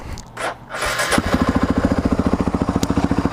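A 1997 Suzuki DR350SE dual-sport motorcycle cranks briefly and fires up on a hot day, then settles into a loud, close, steady single-cylinder idle with rapid regular pulses.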